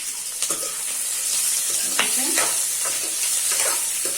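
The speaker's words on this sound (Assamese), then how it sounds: "আদা নহৰু ভাজিলোঁ, পিঁয়াজো ভাজিছোঁ, কেপচিকামখিনি ভাজি আছোঁ।" Onion, ginger, garlic and capsicum fry in a pan for gobi manchurian, a steady sizzle with repeated scraping stirs of a spatula, close and without talk.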